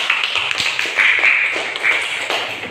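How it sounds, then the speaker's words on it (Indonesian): A small group of children in a classroom claps briefly, the quick patter of hands filling a few seconds. "Tepuk tangan untuk kita semuanya."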